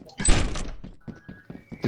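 A loud clunk and rattle of a door opening in the video game Lethal Company, followed by quieter game sounds and a thin steady tone.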